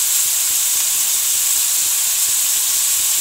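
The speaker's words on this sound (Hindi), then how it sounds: "चिकन में हम थोड़ा सा नमक ऐड करेंगे ताकि जो हमारा चिकन है वो अच्छे से फ्राई हो" Chicken pieces seasoned with a pinch of salt fry in a hot pan, giving a loud, steady, close sizzling hiss that runs unbroken throughout.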